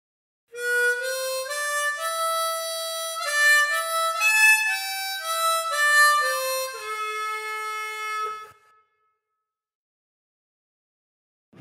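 A harmonica carries a slow phrase of the Irish air "Oh Danny Boy", with bent notes and a clear single-note melody stepping through sustained reedy tones for about eight seconds, played alone and close, then silence.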